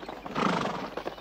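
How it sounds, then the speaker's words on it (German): Horses clop close by with a short whinny in a Western drama set on the Bonanza ranch. The hooves thud unevenly through a moderately loud, brief passage. "Bindet die Pferde dort an."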